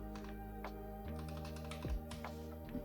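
Typing on a computer keyboard, a short run of quiet, close key clicks in an irregular rhythm over a steady electronic hum.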